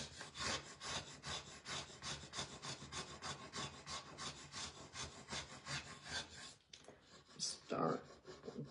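An embossing tool rubs back and forth over a surface in a steady rhythmic scraping, close and fairly soft, with a voice talking faintly underneath.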